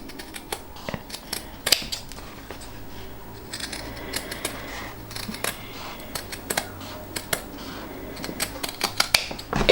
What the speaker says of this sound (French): je vais pouvoir donc découper le surplus